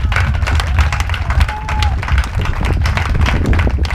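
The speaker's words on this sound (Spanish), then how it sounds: "Un aplauso para ellos porque son unos máquinas" An indoor cycling night crowd at a thermal leisure centre in Cascante applauds the club team, with steady clapping and some cheering over a pounding low bass beat and a voice on top.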